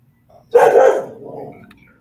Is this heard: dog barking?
yes